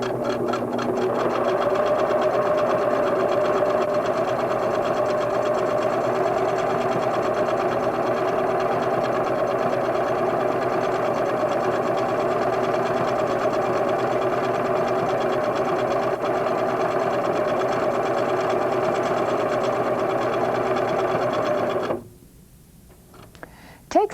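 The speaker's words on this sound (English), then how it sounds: "Set your machine for a feather stitch, lower your needle, and begin to sew." A Singer sewing machine runs a decorative feather stitch through quilting fabric in a loud, steady mechanical whir with fast rhythmic needle ticking, continuous for over twenty seconds before stopping abruptly near the end.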